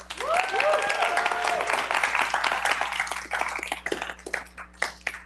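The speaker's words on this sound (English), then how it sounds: "So a round of applause for our participants." Audience applause for the participants at a San Francisco demo day, steady and full for several seconds with a few whoops over it, then thinning into scattered claps.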